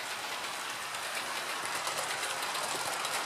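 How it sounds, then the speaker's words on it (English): A model railway train runs round a continuous loop of track, giving a steady, moderately quiet mechanical rumble and whirr with faint clicking throughout and no voices. "Up here comes my train coming around and around on the continuous loop section."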